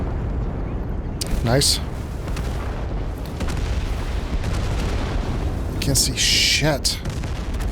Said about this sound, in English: There's rockets.